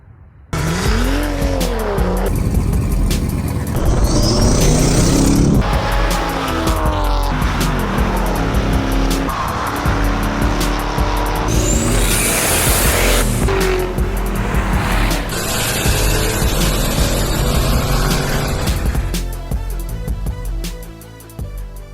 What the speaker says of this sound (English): I drive the new Ferrari Roma